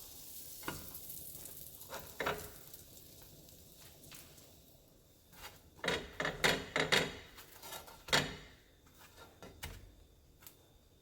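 Bolillo bread rolls toast in a pan, giving soft intermittent sizzling and scraping bursts, a cluster of louder rustles in the middle, with quiet gaps between and no talk.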